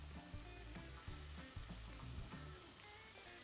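Three slices of mortadella sizzle in a pan for a sandwich. A steady, crackling fry hisses continuously with small pops, fairly quiet and heard alone.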